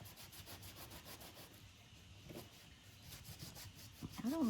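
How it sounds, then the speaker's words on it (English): A wet wipe rubs a snowman decoration clean in quiet, repeated back-and-forth scrubbing strokes, close and soft, with a brief louder sound at the end. "I just want to show you how a wet wipe can help get some of that off"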